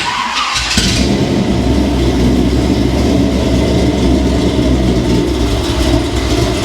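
An old carbureted engine with fuel seeping onto the float bowls cranks briefly, then catches and settles into a loud, steady running rumble close by, with no voices.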